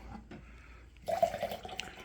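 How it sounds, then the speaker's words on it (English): Modelo Chelada with lime and salt being poured into a glass, a soft splashing liquid pour that starts about halfway through, quiet and close, with faint fizz of foam. "See how the pour does."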